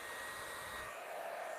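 A blow dryer runs steadily at close range for hair styling, a continuous breathy whoosh with a high motor whine that shifts a little as the airflow moves across the hair.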